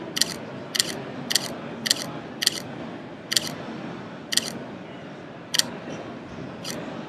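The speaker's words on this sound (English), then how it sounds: "it's a different shutter sound. It's more silent" Mirrorless camera shutter in a quieter mode at a trade show, firing about nine crisp mechanical clicks in irregular groups over a low background hum of the show floor.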